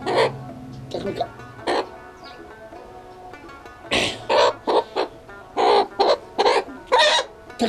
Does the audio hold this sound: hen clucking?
yes